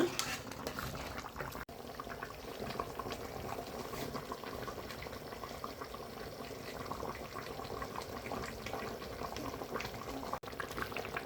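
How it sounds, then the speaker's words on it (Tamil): A pot of spicy turkey neck curry simmers with water cooking down, giving a faint, steady bubbling hiss at close range for several seconds, with no talk. "இந்த தண்ணி வந்து ஃபுல்லாக சுண்டுற வரைக்கும் வந்து நம்ம வந்து வேக விடணும்"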